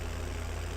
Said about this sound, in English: Once this tractor does get up a bit of head of speed, he's alright though